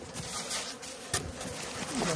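Honeybees hum softly at a moderately weak hive from a previous year's split, a faint continuous buzz with no voices.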